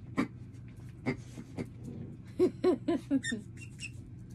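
A squeaky dog toy squeaks repeatedly up close, a few spaced squeaks then a quick run of four or five, over faint background noise.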